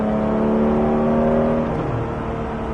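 A Porsche GT3 on a race circuit holds a loud, steady engine drone from inside the car, its pitch climbing under acceleration and then easing slightly as the revs settle, with no talking.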